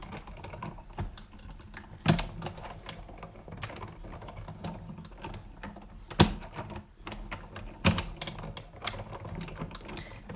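A die-cutting machine rolls through thick layered paper, giving a steady grinding mechanical rattle with a few louder clunks as the plates pass through, close and alone.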